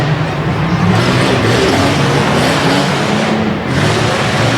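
A two-wheel-drive tough truck spins out on slippery, moisture-soaked dirt at a Harrisburg, Pennsylvania tough truck event, its engine droning loud and steady with a broad roar throughout.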